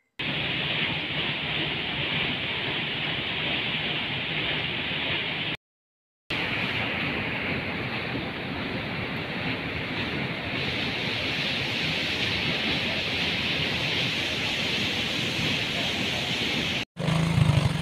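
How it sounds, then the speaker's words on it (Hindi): Fast water rushing down a channel beside a hydroelectric power plant, a loud, steady broadband roar heard up close that continues almost unbroken, with one brief dropout partway through. "ये इतनी रफ्तार से पानी जा रहा है"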